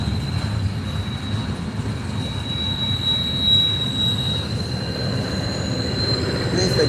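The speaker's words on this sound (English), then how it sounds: "it's a double stack intermodal" Double-stack intermodal freight train rolling past trackside near North Fork, West Virginia, a loud continuous rumble of railcars with a sustained high wheel squeal ringing over it.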